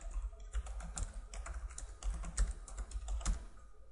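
Rapid, uneven keystrokes on a computer keyboard as text is typed, a steady close clatter of individual clicks running throughout with no speech.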